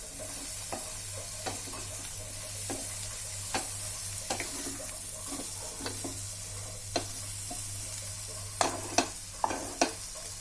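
Okra and onion sabzi being stirred in a pan, with a steady low sizzle under repeated scraping strokes of a spoon against the metal, growing louder and sharper near the end; no one speaks.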